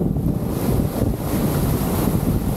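Strong wind roars across the microphone at Timbis Beach in Bali, with the broad rush of waves and surf beneath it, loud and continuous throughout.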